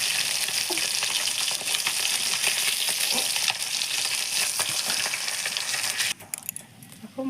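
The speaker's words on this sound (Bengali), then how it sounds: "দেখো মাছটা ভাজা হয়ে গেছে," Catla fish pieces sizzle steadily in hot cooking oil in a home kitchen, a dense, continuous crackle that thins near the end as the fish are lifted out.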